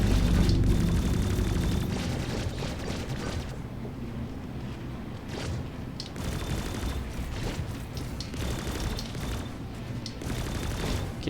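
Ship weapons fire in rapid repeated bursts during a space dogfight in Star Citizen, loud booming volleys at first easing into scattered cannon shots over a steady hum.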